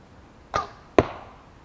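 Two crisp impacts less than half a second apart as an arrow from a Segye Korean bow is loosed and strikes the target with a firm thud, close by and with no voices.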